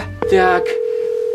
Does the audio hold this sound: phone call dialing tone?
yes